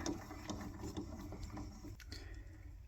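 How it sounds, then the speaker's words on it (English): A threading die is run up a freshly cut bolt held in a vise in a workshop, giving a continuous close grinding and scraping with faint rhythmic ticks. "now I'm just running a dye up it to clean the threads off."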